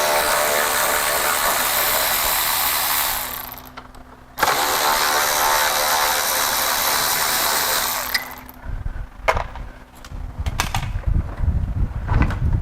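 A power ratchet tool removing the bumper support bolt on a BMW E46 M3, whirring loudly in two long close runs with a brief pause between, followed by metallic clanks and handling of parts.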